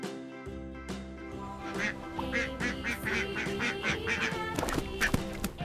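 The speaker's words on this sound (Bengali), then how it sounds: "এটা হলো হাঁস। হাঁসকে ইংরেজিতে বলে ডাক।" A duck quacks in a loud, repeated run of calls alongside steady tonal sounds, with no talk.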